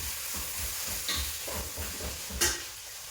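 Small chopped tomato pieces frying in a pan in a student's home kitchen, giving a steady soft sizzle with occasional stirring scrapes and one sharper clatter near the end.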